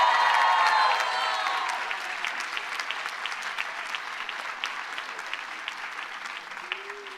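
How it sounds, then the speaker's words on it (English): An audience at a psychology and brain sciences commencement ceremony gives another round of applause for the thesis writers, a broad wash of clapping that starts strong and gradually tapers to lighter, scattered claps. "One more round of applause for all the thesis writers"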